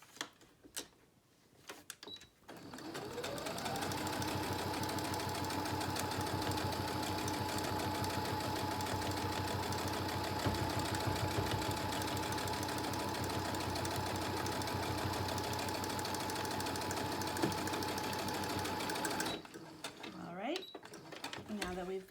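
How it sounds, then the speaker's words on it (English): A sewing machine stitches a fabric mask, a continuous rapid mechanical whir lasting most of the clip, starting and stopping cleanly with quieter handling sounds before and after. "And then we're ready to stitch this side."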